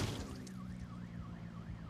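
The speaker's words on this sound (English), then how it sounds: "Oh my god, a car alarm's going off." A car alarm in the video game Project Zomboid wails in a repeating rising-and-falling siren pattern, several regular cycles heard faintly at a distance over a low steady rumble, with no talking.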